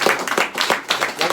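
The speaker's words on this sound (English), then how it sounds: "Give everybody who shared a round of applause." Brief burst of audience applause at a live business event, a few scattered claps rising and falling in uneven bursts, fairly close and mixed with crowd noise.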